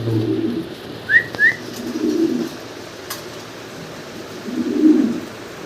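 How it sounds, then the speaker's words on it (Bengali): A pair of pigeons coos softly at close range, with low bubbling coos near the start, middle and end and a couple of brief higher whistle-like notes early on, over faint background noise. "একদম টপ কোয়ালিটির এক জোড়া শৌকিং কবুতর"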